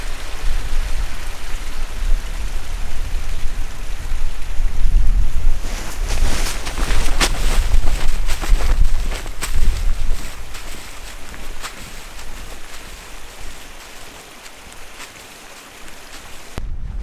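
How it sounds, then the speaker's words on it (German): Strong gusts of icy wind in a snowy Black Forest roar and buffet the microphone, rising to a loud, rushing peak midway before easing to a steadier, quieter blow. "Jetzt fängt es auch noch richtig an zu winden."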